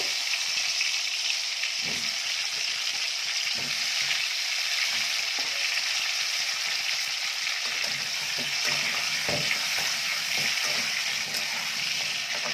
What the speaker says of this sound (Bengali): গোল গোল করে কেটে রাখা আলুগুলোকে ভালো করে ভেজে নেব।